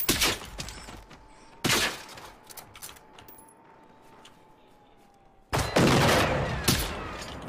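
Pistol fire in the video game Generation Zero: a few sharp, loud shots spaced apart with ringing decay between them and a quieter stretch in the middle.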